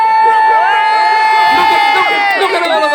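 A large crowd at a Labour campaign rally in Gateshead cheers and shouts loudly and continuously, a dense wall of many voices with whoops rising above it.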